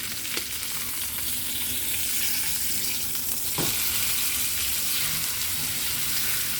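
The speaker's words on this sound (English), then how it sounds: "My chuck roast has been browning for about 4 to 5 minutes. So now I'm going to flip it." A chuck roast sears in a hot pan for a pot roast, giving a steady, dense sizzle and crackle that stays loud throughout, with a brief clatter near the middle as it is handled.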